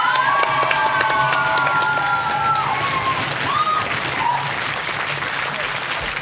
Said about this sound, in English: I think he deserves a huge round of applause.